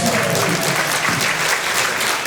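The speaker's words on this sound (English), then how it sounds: "Could I have a big, huge round of applause?" Sustained applause from a crowd at a senior talent show, steady clapping filling the whole stretch with no pauses.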